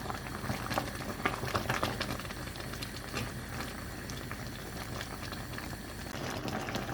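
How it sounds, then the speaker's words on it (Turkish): Orange jam bubbles in a pot over medium heat, a continuous thick boiling with dense small pops and gurgles, close and fairly quiet, with no voices. "Orta derecede yaklaşık 45 dakika kadar bu şekilde reçeli kaynatıyoruz arkadaşlar"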